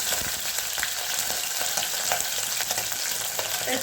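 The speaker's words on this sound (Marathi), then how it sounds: "त्याच्यात ही चिकनची थोडी निघालेली चरबी तवंग येण्यासाठी गरम करायची अशी" Chicken fat heats in a pan and fries with a steady, dense sizzle and crackle, close and continuous throughout with a few small pops and stirring scrapes.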